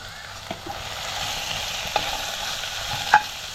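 Spices like red chili powder, garam masala and turmeric sizzle in hot oil in a pan while being stirred, a steady close frying hiss with a few soft clicks of the spoon and no talking.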